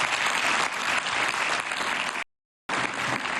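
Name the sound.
audience applause in European Parliament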